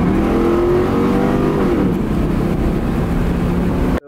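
A Chevrolet Camaro with an LS V8 idles with a loud, steady, deep rumble that swells slightly as it revs, heard up close and continuous until it cuts off abruptly near the end.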